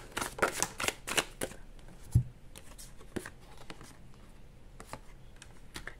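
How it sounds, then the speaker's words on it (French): Tarot cards laid out one by one on a table, a quick run of soft papery slaps and flicks at first, then sparse light taps, close and quiet with no talking. "je pose toutes les cartes, je vous explique"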